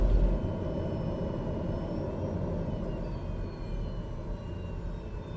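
A TBM 930 turboprop engine in Microsoft Flight Simulator hums as a steady, loud, close rumble with a faint high whine, holding at a constant level after a brief louder start, with no talk.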